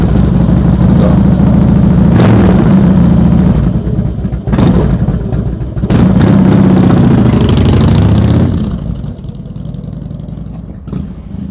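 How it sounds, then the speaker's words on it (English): A motorcycle engine fires up and runs near and loud, rising and falling through a few throttle blips before it settles down to a quieter idle. "the motorcycle's getting ready to get started"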